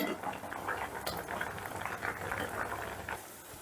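Potatoes boil in yakhni stock water with a dense, even bubbling and gurgling, close and moderately quiet, no talk.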